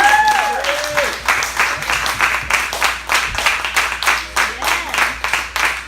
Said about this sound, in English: Keep clapping for all the comedians you saw tonight.